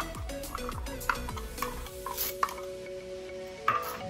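Green chilies mixed in a pot with diced tomatoes, a spoon scraping and clinking against the pot in quick uneven strokes, close and fairly quiet, no talking.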